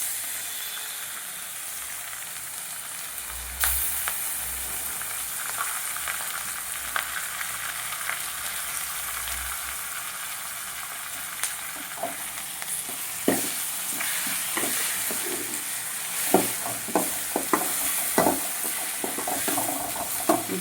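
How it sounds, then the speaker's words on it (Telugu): Spice paste for pudina fried rice fries in a pan with a continuous hissing sizzle, and more frequent utensil scrapes and taps build toward the end, with no voices. "పచ్చివాసన పోయే వరకు వేయించుకోవాలి"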